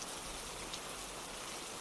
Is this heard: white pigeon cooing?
no